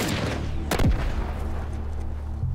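A smoke bomb thrown in The Last of Us bursts with one loud close boom and hiss over a constant rumbling game background, then a softer thud follows near the end.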